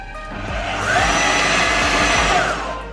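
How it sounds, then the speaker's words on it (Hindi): Electric blender running continuously on banana cupcake batter with milk, a steady close whirring motor drone that swells slightly midway and holds for about three seconds with no talk. "इसको हमने हार्डली 1 से 2 मिनट्स के लिए ब्लेंडर को चलाया है।"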